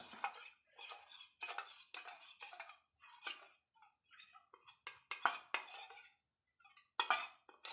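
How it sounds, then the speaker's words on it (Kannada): Cornflour mixed with water in a bowl by a utensil, heard as quiet, rapid clinking and scraping strokes in an irregular rhythm, close by with no speech. "ಅದನ್ನು ತಗೊಂಡು ಸ್ವಲ್ಪ ನೀರನ್ನು ಹಾಕಿ ಮಿಕ್ಸ್ ಮಾಡ್ಕೋಬೇಕು"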